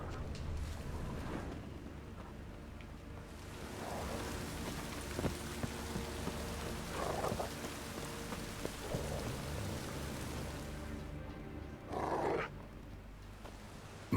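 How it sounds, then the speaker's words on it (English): Steady rain falls in The Witcher 3: Wild Hunt on Nintendo Switch, a constant hiss of droplets on surfaces that fills the whole scene at an even, moderate level, with a few brief louder bursts over the top. "Looks like rain."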